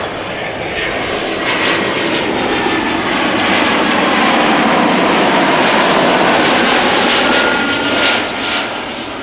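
Airplane landing at Amsterdam Schiphol Airport in a left crosswind on a summer evening, a loud, continuous jet roar that swells gradually as the aircraft passes close by, then eases slightly near the end.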